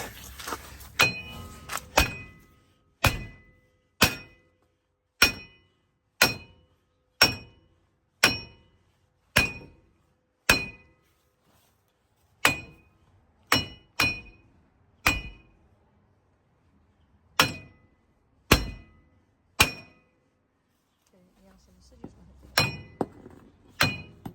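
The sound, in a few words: hammering out a front wheel bearing on a 2006 Dodge Dakota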